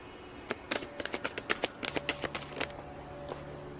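Quiet shuffling of oracle cards up close, a quick run of soft papery taps and flicks that trails off into a faint steady background hum.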